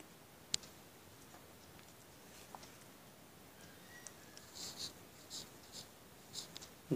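Quiet, sparse tapping and scratching of writing on a board during a biology lesson, faint and close, with a few sharp clicks against a hushed background.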